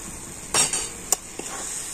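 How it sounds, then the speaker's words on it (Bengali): A spoon stirs a thick palm fruit pulp batter mixed with flour and rice powder, giving a few brief scraping clinks against the bowl in an otherwise quiet moment. "আর এখন আমি সমস্ত কিছু কিন্তু খুব ভালো করে একসাথে মিশিয়ে নিচ্ছি"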